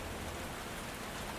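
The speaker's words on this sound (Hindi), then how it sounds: "बहुत तेज बारिश, समंदर उफान मार रहा था।" Heavy rain beating down during a stormy drive along a surging sea, a dense, steady hiss of downpour with no voices.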